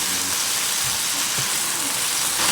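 Garlic and cilantro sauté in a hot pan, giving a steady, dense broadband sizzle that holds evenly at close range with no pauses.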